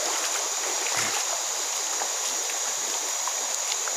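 Water flowing steadily along the Buan River in Mahakam Hulu, a constant broadband rush with faint trickles and splashes, no voices.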